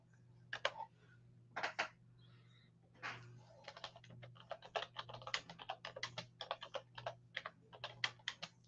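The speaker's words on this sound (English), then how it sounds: "I got to get this typed in." Someone types on a computer keyboard, starting with a few scattered clicks that build into a quick, irregular run of keystrokes, soft and nearby over a low background hum.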